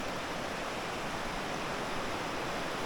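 Water of a stream or waterfall rushes in a dense, continuous roar, broad and unbroken throughout, with no voices.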